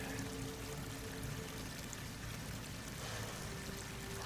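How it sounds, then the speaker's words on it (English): In the Horizon Forbidden West video game, water pours steadily into an enclosed space, a continuous rushing, splashing flow that holds even in level from start to end, with no voices over it. "Water's coming in."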